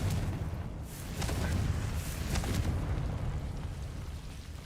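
Confringo blasting spell exploding in the Hogwarts Legacy video game, a sustained booming rumble with several sharp bursts cracking through over a few seconds, loud and continuous.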